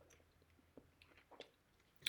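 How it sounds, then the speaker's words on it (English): Someone chewing a cough drop up close, a few soft, wet crunches and squishy bites spread over a short, quiet moment with no talking. "I'm chewing on a cough drop here"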